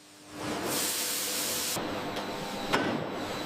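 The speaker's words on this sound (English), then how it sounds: "Steam pressure cookers soften them perfectly for the filling." Steam hissing from pressure cookers in a samosa factory softening potatoes, a broad steady hiss that rises near the start, holds, then drops off, followed by a sharp clank near the end.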